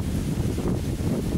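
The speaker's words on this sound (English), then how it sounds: "it's a bit windy today" Steady wind buffeting a nearby microphone, a continuous low rumble that gusts slightly without pause throughout.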